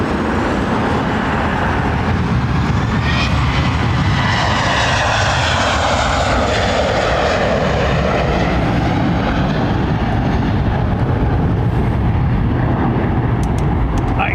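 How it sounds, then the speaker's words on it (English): An airliner bouncing on landing and going around at Heathrow produces a loud, continuous jet engine roar that swells as thrust builds, steady and close throughout. "Whoa, bounced it, he's bounced it."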